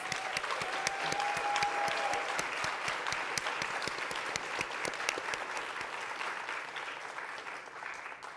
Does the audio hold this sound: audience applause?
yes